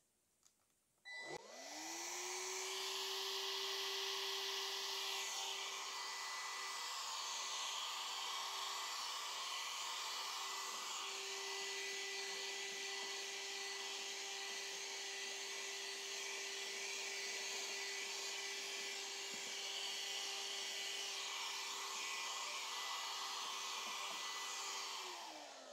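A vacuum cleaner switches on and runs continuously with a steady high whine and airy roar, close and loud, with slight pitch shifts, sucking dust from an air purifier.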